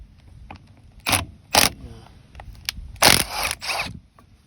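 A ratchet works bolts loose on a tractor PTO shaft, giving a few separate bursts of clicking and grinding spread over several seconds, close and fairly loud against a quiet background.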